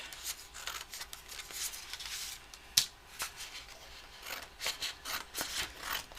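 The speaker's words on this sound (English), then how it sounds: "I really like the Crafter Companion scissors, the big ones" Large Crafter Companion scissors snipping craft material while making a winter bauble, a series of close, crisp cutting snips and rustles, one sharper clack near the middle, no talking.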